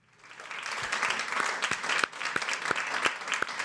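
An audience at a veteran pitch event applauds a committee chair, the clapping swelling quickly into steady, dense applause from a sizeable crowd, with a few sharper individual claps standing out nearby.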